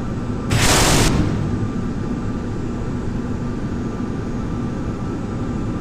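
An A-10 makes a gun pass on a tower in a flight simulator game: a loud rushing burst of cannon fire lasting about half a second rises over a steady, droning jet engine roar that continues afterward.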